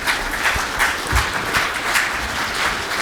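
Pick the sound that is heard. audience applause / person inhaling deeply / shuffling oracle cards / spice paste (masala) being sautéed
audience applause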